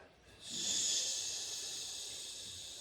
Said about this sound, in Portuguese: se você soltar o ar mais devagar do que você inspira